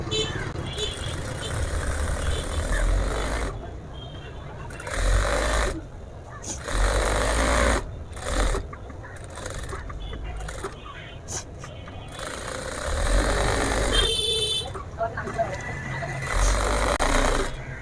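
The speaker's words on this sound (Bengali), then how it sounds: "পকেটের সম্পূর্ণটাই সিলাই দিয়ে নেব" A sewing machine stitches a pocket onto pyjamas, running in loud bursts separated by short pauses, with a steady low mechanical drone.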